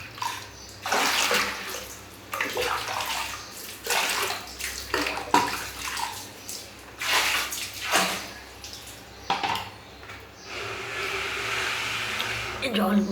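Water runs and splashes as containers are filled at home and stored until night during a hot spell, in a series of separate pours with short gaps, ending in a longer steady stream.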